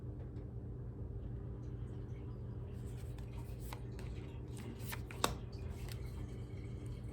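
A brand-new Nightmare Before Christmas tarot deck is shuffled by hand, its faint papery riffles and rustles sitting over a low, steady background hum, with one crisp snap of the cards midway.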